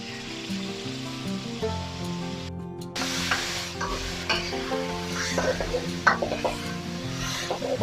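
Vegetables for restaurant-style chicken Manchurian frying on a high flame, a steady loud sizzle running throughout with a spoon scraping and stirring the pan in irregular strokes.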